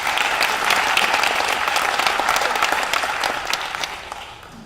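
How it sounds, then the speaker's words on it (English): An audience at a student and staff awards presentation claps for a college-bound honoree, a loud, full round of applause from many hands that gradually fades toward the end. "Let's give that a nice round of applause"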